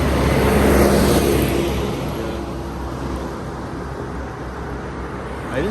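A car driving along a busy six-lane highway in India, a continuous broad road roar with engine rumble and passing traffic, louder at first then easing slightly, with no voices.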